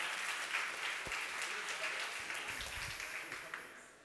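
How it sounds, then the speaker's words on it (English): A conference audience gives a round of applause at an inclusion talk. Dense, steady clapping starts loud and gradually fades, with a few faint voices mixed in. "Give them a second round of applause, everybody."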